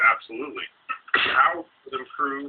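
A single sharp sneeze from someone nearby bursts out in the middle of a conversation, briefly louder than the talking around it.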